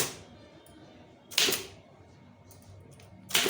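Two sharp, isolated key clicks on a computer keyboard, about two seconds apart, while a letter is typed in Tamil; each strike is crisp and fairly loud against a quiet room with no talk.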